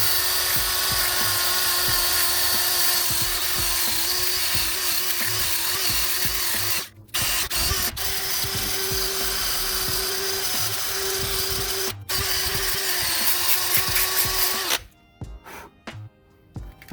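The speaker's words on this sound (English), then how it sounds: "So get yourself your wire brush on your drill bit." A power drill with a wire brush whines steadily at high speed, scraping rust from an Infiniti G35 wheel hub, stopping briefly a few times before cutting out in short bursts.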